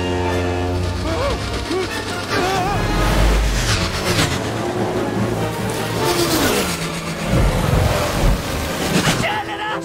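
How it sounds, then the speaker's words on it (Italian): A motorized bathtub speeds along a river in an animated chase, its motor whining and shifting pitch over splashing water, with excited voices talking over it. "Stanno scappando sul fiume su una vasca a motore?"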